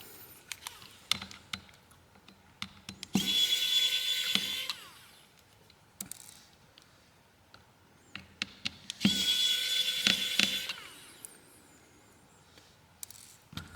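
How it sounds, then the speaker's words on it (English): Small screws being unscrewed from the motherboard of a SKY Elite D65 phone, two stretches of buzzing driver whir separated by light clicks and taps, close and fairly quiet. "so we'll take those two screws out first."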